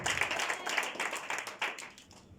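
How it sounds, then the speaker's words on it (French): A church congregation clapping for the Lord, steady rhythmic handclaps from many people at moderate volume, fading out at the end. "clap for the Lord"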